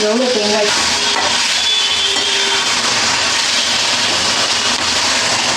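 Onion, tomato and green chilli sautéing in a pan for a Tamil coconut poriyal, a steady broadband sizzle and stirring that runs continuously and fairly loud, with some brief voice-like tones near the start.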